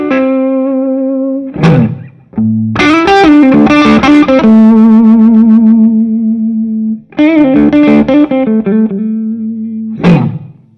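Gibson ES355 electric guitar played through a Peacekeeper overdrive pedal, giving a mildly driven edge-of-breakup tone: sustained chords and phrases ring loud and upfront with a few short pauses between passages.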